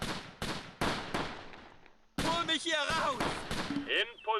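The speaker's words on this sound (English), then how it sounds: "Ooh, mortars now too?" Mortar rounds explode in the WWII strategy game Close Combat near Caen in June 1944: a run of sharp, close blasts in quick succession, then denser bangs mixed with voices and battle effects.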